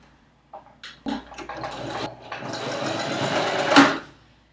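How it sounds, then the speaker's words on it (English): Sewing machine stitching the seam of a fabric face mask, a few short bursts followed by a steady continuous run of a few seconds that ends abruptly, close and fairly loud with no voices. "If you have the capability to do a backward stitch on your machine, do it."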